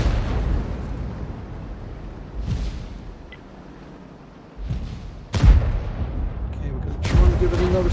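Artillery from a Conqueror Gun Carriage firing in World of Tanks, heard as a few booming blasts with sharp onsets around the middle and near the end over a steady rumbling game backdrop.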